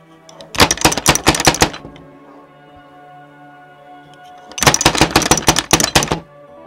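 Heavy, violent pounding on a door: two bursts of rapid, loud, close blows with a quiet gap between them.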